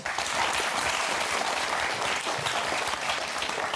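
A television game show studio audience applauds two contestants loudly, a thick, unbroken wash of clapping that stays even from start to finish.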